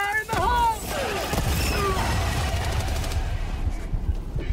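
A grenade explodes in the co-op shooter Helldivers 2, a loud blast mixed with bursts of gunfire and shattering debris, while voices talk over the chaotic battle noise.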